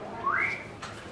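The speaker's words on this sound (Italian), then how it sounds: "Anche il fischio" A single rising whistle, made by a person during a partner-work bachata dance workshop at a festival in Sardinia. It is brief and moderately loud, and no talk is heard over it.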